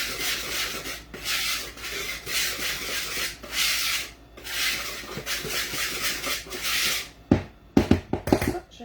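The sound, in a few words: mixing flour with baking soda and ginger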